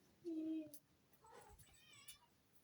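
A cat gives one short, clear meow indoors, followed by quieter vocal murmurs, all faint and close in an otherwise quiet room.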